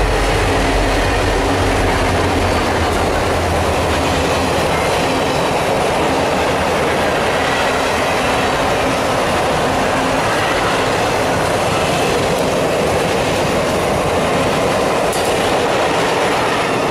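A freight train rolls past close by with a loud continuous rumble and rhythmic wheel clatter on the rails, steady throughout with no voices.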